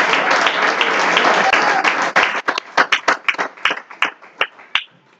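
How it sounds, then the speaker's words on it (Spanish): A church congregation claps hands together, first in a dense burst of applause, then thinning to scattered, rhythmic individual claps. "Dele palmas para Cristo."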